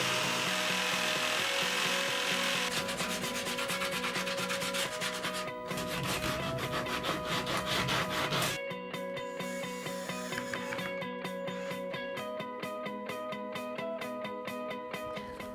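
A jigsaw finishes inside cuts in a large wooden initial, a loud continuous buzzing, rasping saw tone that shifts in pitch partway through and keeps running throughout.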